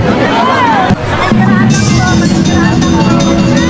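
A dense crowd on the Alay Lakad pilgrimage walk in Landayan, loud continuous babble of many voices close around, with nearby talk, shouts and a sudden bump partway through.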